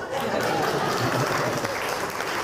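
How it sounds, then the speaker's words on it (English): An audience applauds in a hall, a thick continuous roar of clapping that holds steady and loud throughout, with a few voices and light laughter blended underneath. "Round of applause."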